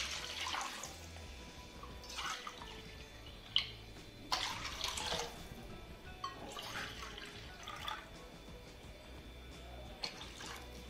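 Water is poured into a pan in a home kitchen while making masala upma, or kharabath: soft, faint splashing bursts come and go, with a few small clinks.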